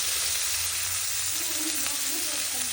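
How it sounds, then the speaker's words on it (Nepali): Dried fish frying in a pan for a chutney, a close, loud and constant hiss of sizzling oil with faint bubbling underneath. "अब यो पुरा मजाले फ्राई गर्नुपर्छ।"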